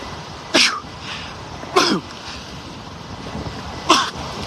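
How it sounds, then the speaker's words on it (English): Three short, sharp sneezes spaced about 1.5 seconds apart over a steady wind and water rumble on a beach in North Naples, Florida. "Got a sneeze though."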